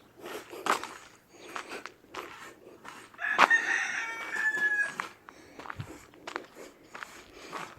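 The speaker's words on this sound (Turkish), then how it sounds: "ne güzel ötüyorlar. Sabah müjdeliyorlar." Roosters crowing in a rural Turkish village in the morning, the crows rising over scattered clucks, footsteps and shuffling nearby, at moderate distance.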